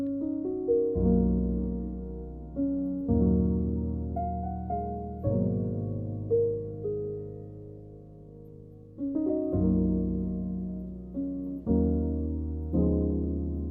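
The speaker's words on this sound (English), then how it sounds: "I use the Keyscape preset." Keys from the Keyscape preset play a slow progression of sustained chords in an Amapiano beat, each new chord struck clearly every two to three seconds and left ringing alone.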